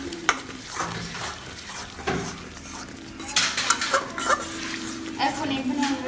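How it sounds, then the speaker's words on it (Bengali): Spice masala being stir-fried in a pan for a braised beef tail dish: soft sizzling under repeated scraping and clinking of a utensil against the pan, fairly quiet and close. "এখন মশলাটা ভালো করে আমরা কষিয়ে নেব।"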